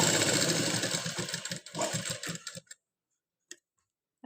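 Sewing machine fitted with a normal presser foot stitching thread piping, a steady close rapid whir of stitches for about two and a half seconds, then stopping with a couple of faint clicks.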